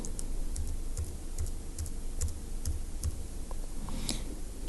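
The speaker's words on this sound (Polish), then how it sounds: "Wpisujemy hasło" Keys tapped on a keyboard to type a password while setting up a Tasmota smart plug, a steady run of soft, quiet clicks close by with no talking.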